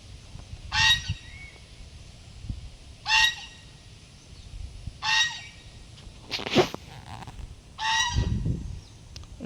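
A duck or swan at a deer park in Papadahandi gives a series of loud, honking calls, about five evenly spaced cries roughly two seconds apart, fairly close, with faint background rustle between them.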